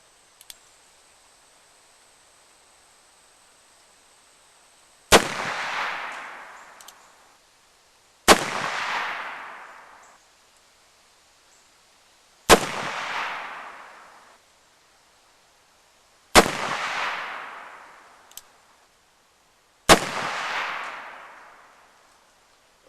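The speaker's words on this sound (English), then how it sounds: "I'm going to take a field position on the shooting stool and actually shoot at a target at 20 yards" A civilian percussion revolver fires round-ball loads at a 20-yard target outdoors: five loud, sharp cracks spaced a few seconds apart, each with a decaying echoing tail, after a quiet lead-in.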